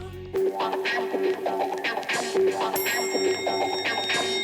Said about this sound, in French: se jette sur la sonnette à la moindre occasion